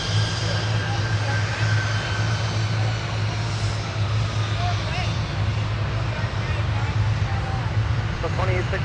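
An airliner takes off at Minneapolis–St. Paul airport, its engines a loud, sustained roar with a steady low drone, while radio voices talk intermittently over it.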